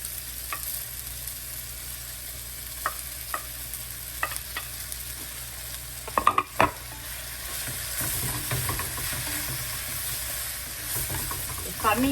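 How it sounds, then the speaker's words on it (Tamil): Sliced onions sautéing in a pan before dried fish goes in for a karuvadu curry: a steady close sizzle with scattered spoon taps and a brief burst of scraping stirs midway, no voices. "இப்போ வதங்கி வந்துட்டுது வதங்கி வந்தோடனே இதுக்கு பிறகு தான் நான் இதை போட போகிறேன் கருவாடை"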